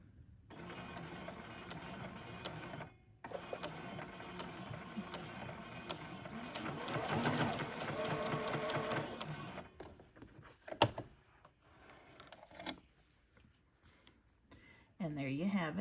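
Home sewing machine stitching a quilt-as-you-go dish mat, running in a steady mechanical whir for several seconds with a brief pause, then stopping near the end.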